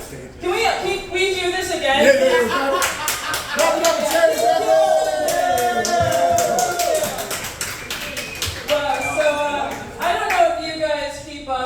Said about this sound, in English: Clap it up for Charity Gregory.